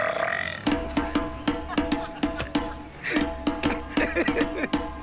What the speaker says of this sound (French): faites ça comme tout le monde, un petit rot comme ça.